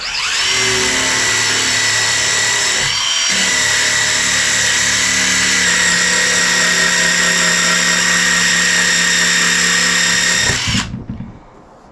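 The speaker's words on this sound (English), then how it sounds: "you can see that the wire wheel is removing the rust and the old paint there" A wire wheel on a ratchet scours rust and old paint from a Masterbuilt electric smoker, a loud close continuous grinding whine that briefly dips near the start, runs steadily, then cuts off and spins down.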